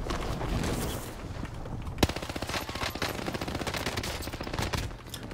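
Rapid video-game gunfire crackles through a dense firefight, with a steady run of close shots and one sharp louder crack near the middle, carrying on without pause.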